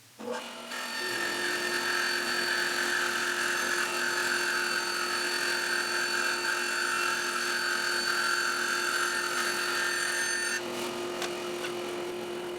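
A bandsaw cuts tapered yellowheart staves with a steady whine and rasp lasting about ten seconds, close and fairly loud, then winds down.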